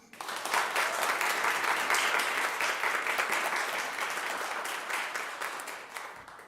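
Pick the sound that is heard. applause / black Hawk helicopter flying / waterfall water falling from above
applause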